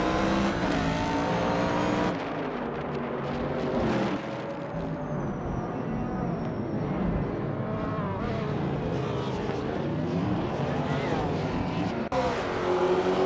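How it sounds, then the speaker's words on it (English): Race cars in a racing video game drone and whine loudly and continuously, engines rising and falling in pitch as they pass and shift, with brief cuts in the mix. "Botlux Ravenous has overtaken the previous leader, and now leads the race."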